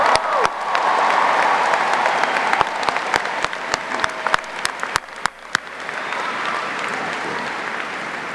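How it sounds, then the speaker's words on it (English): Loud applause from a large crowd at a Power Shift 2011 keynote, dense clapping with sharp hand cracks on top, tapering slightly toward the end. "give them a round of applause."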